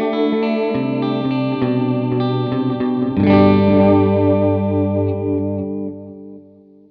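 Electric guitar played through a TC Electronic Flashback II Mini delay pedal on its default setting: picked notes and a chord ring out with repeating echoes trailing behind, then fade away, with no talking.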